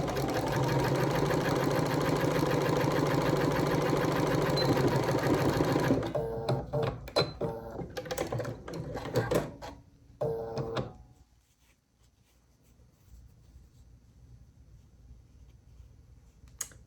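A sewing machine runs steadily at a short stitch length joining 2.5-inch quilt strips, a loud continuous whir for about six seconds, then brief stop-start bursts and clicks before going quiet.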